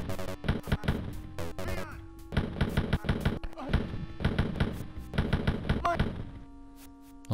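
Gunfire in the video game Wolfenstein 3D, a string of sharp retro shots in rapid bursts with short pauses, loud and close over game music tones, ending in a held tone.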